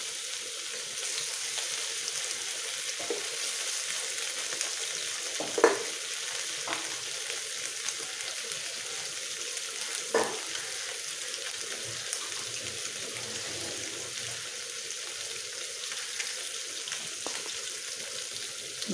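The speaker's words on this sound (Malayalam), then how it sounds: "നമ്മൾ മീൻ പൊരിക്കാൻ വെച്ചു" Fish fries in a pan with a continuous, even sizzle and hiss, steady and close, broken by a couple of brief knocks; no one speaks.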